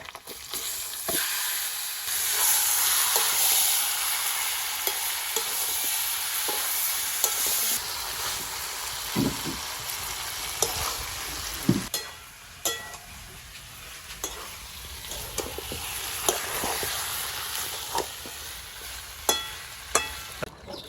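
Chicken pieces frying in a pan with onions, bay leaves and cardamom, a continuous close sizzle broken by repeated scraping and clacking strokes of a spoon stirring the meat, with no talk.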